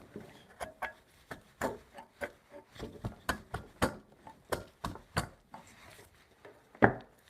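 A freshly sharpened chisel cuts into wood, giving a series of sharp, close taps and chops at an irregular rhythm, ending with one louder strike.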